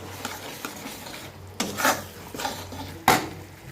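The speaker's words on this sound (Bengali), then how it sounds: "এবার এখানে দিয়ে দিলাম অল্প একটু জলে গুলে রাখা কর্নফ্লাওয়ার। এটাকেও ভালো মতো মিশিয়ে নিলাম।" A spoon stirs a cornflour slurry into dry chicken Manchurian in a pan, scraping in several uneven strokes with a couple of louder clinks against the metal, close and alone over a faint sizzle.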